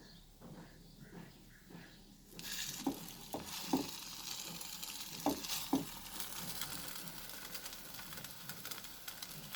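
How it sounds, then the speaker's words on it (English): Milk-soaked bread slices fry in a pan with a steady sizzle that jumps louder after a quiet start, broken by a few sharp clicks and taps of a utensil. "We'll fry this on both the sides till it becomes slightly golden in color"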